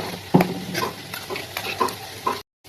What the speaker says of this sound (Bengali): আলুটা ভাজা হয়ে এসছে তো আর একটু লাল করে ভেজে নেবো